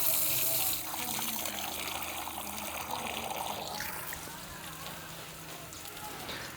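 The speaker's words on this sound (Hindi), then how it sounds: "परिंदों के पानी पीने के लिए जो हमने यहाँ पे रखा हुआ है उसको दोबारा से फिल कर देते हैं।" Water poured to refill a drinking vessel for birds at a rural Punjab village home, a steady splashing trickle over outdoor background noise, with faint voices at times.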